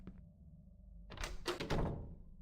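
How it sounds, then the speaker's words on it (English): A door opens in a horror video game: a faint click, a quiet pause, then a loud creaking, thudding burst of wood and latch noise lasting about a second before settling into a low rumble. "I think he's opening the door faster than he was before."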